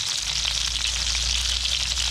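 Steady, loud sizzling of fish frying in a hot pan, a continuous crackling hiss with no voices.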